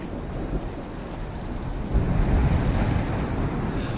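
A rain and thunderstorm effect with dense continuous rainfall and deep rumbling thunder that swells louder about halfway through, heavy and close with no speech.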